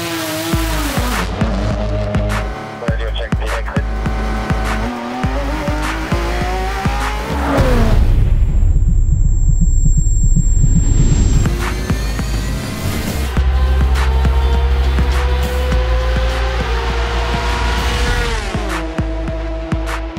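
A Porsche GT race car at full throttle at Monza, its engine screaming loud and close through rising gear pulls with quick upshifts, a brief tire squeal and a roaring lull under braking before climbing again.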